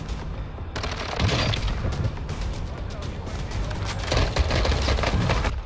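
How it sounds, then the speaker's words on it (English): Gunfire in the Warzone video game: rapid bursts of shots crackle over a rumbling battlefield bed, loud and sustained, with a player talking over the action. "Got some gunshots up this way."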